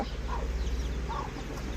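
A mother hen with chicks clucks softly a couple of times over a steady low hum and faint background noise.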